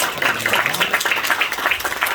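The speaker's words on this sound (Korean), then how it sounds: "우리 크게 한번 박수해 주시기 바랍니다" An audience at a Korean theological graduate school degree ceremony breaks into applause, a short burst of scattered hand claps with an uneven, pulsing rhythm.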